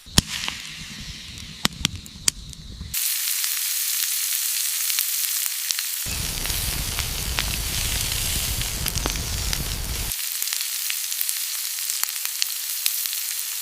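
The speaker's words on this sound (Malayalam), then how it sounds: "ഇനി മസാല തേച്ച് വെച്ച ആട്ടിറച്ചി ഈ തീക്ക് മോളി വെച്ച് നമുക്ക് ചുട്ടെടുക്കാം" Masala-rubbed goat meat roasting over an open fire outdoors, a steady close crackling sizzle with sharp pops and snaps throughout, no voices.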